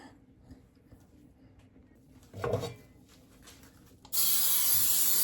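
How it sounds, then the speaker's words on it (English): Cooking spray hisses from an aerosol can onto a bundt pan in a home kitchen, a loud continuous spray in the last second, preceded by a brief rattle of the pan being handled. No one speaks. "now we're going to spray our pan"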